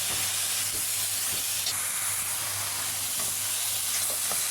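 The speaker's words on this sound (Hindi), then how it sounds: "मैं जो फटाफट अब थोड़ा सा और भून के इसमें डालूँगी दूध।" Grated carrots frying in ghee for gajar halwa, a loud, dense, hissing sizzle that holds steady throughout, close up with faint stirring scrapes and no talk, plus a low constant hum beneath.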